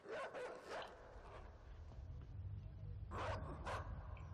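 Dog barking in the side-scrolling puzzle game Inside, two separate pairs of sharp barks, one pair near the start and another near the end, over a low ambient rumble.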